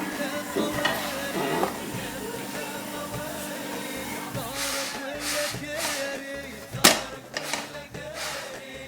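Moroccan batbout flatbread cooking one by one in a hot pan, giving a steady soft sizzle with occasional stirring and clatter, including a sharp knock near the end.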